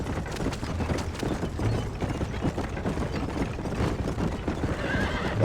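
A horse in the Western video game Red Dead Redemption whinnies loudly over steady clip-clopping hooves and faint mechanical ratcheting, with the sounds continuing densely throughout.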